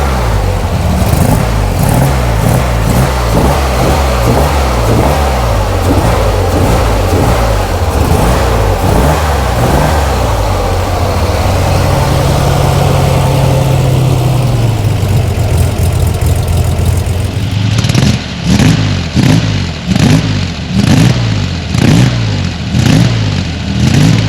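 Corvair engine with custom fuel injection, running a little lean after being flooded, revs hard and repeatedly, its snappy throttle blips rising and falling close up and loud, with no talking.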